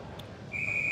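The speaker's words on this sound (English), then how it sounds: "we'll get the signal and the whistle for an icing." A referee's whistle blows sharply for icing at an ice hockey game, one sustained shrill blast that starts after a brief arena noise and holds to the end.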